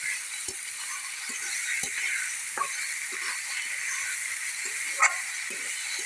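Bottle gourd greens frying in a pan with black cumin, giving a steady, close sizzle and hiss throughout. Irregular clicks and scrapes from the stirring cut through the sizzle.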